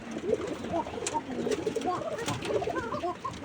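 A male pigeon coos in soft repeated low phrases nearby, joined by faint chirps from other birds.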